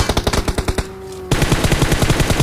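Rapid automatic gunfire from the battle royale game BGMI, loud bursts of evenly spaced shots that pause briefly for about half a second and then resume in a steady, continuous stream.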